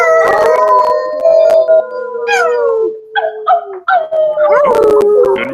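Several people at an online team-building hangout howl at a full moon, imitating wolves with loud, overlapping, sliding howls and yips that run almost without pause.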